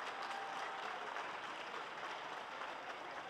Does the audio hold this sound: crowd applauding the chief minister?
yes